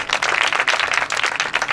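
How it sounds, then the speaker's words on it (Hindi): A church congregation claps loudly together, a dense, continuous burst of many hands that lasts just under two seconds, with no voices over it. "जोर से ताली बजाएं इस वचन के लिए।"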